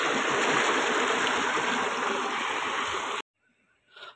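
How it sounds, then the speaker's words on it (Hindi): Water from an engine-driven pump gushes steadily into a bucket for watering plants, a loud continuous rushing stream that cuts off abruptly, leaving near silence and a faint sound at the end. "तो अभी हम यहीं से पानी भर लेते हैं।"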